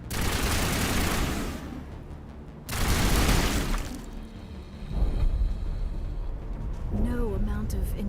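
Gunfire in a sci-fi space opera video game, loud broadband bursts in two heavy volleys with rattling shots continuing afterward, mixed with game effects and a voice talking over it.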